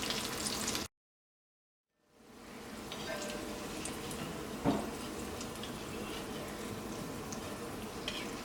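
Breaded onion rings crackle and sizzle steadily in hot oil. Close and continuous, it stops briefly near the start before resuming.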